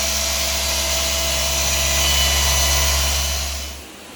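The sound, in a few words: power polisher polishing a car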